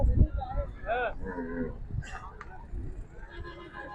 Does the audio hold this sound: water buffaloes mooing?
yes